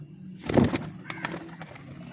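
An Indian Bajra pigeon gives a soft, close coo with light rustling around it, followed by fainter bird sounds.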